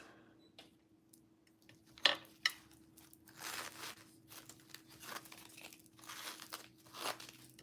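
Peel-and-stick wallpaper is folded for a craft, with crisp crinkling and crumpling rustles, a couple of sharp creases near the start, and repeated bursts of handling noise over a low steady hum.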